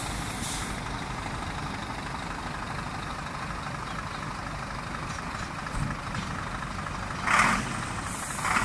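A truck engine runs steadily at a trailer factory, near a brand-new 16.50 m semi-trailer, with a low continuous rumble and a brief hiss of air brakes toward the end.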